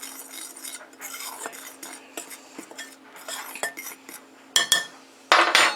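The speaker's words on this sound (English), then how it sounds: "I'm just going to take a fork and blend this together." A fork scrapes and clinks against a bowl while blending flour, baking powder and salt for biscuits, a steady close scratching with brief metallic taps and a louder rattle near the end, no talk.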